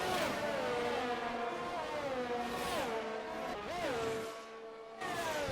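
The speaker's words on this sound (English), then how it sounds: "So he's going to be putting the throttle down using that ERS." A Formula-style race car in a racing video game accelerates hard out of a corner at Monza, its high engine whine climbing through the gears with quick dips at shifts, loud and close, with no talking.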